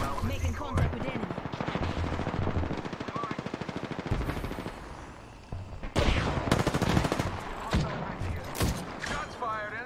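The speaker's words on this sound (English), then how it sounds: "Shots fired" Automatic weapon fire in the first-person battle royale game Apex Legends, long rapid bursts of loud close gunshots, then sharper separate shots and impacts, with a player talking over parts.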